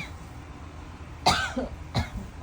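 Two short coughs, close by, about a second apart over a quiet background.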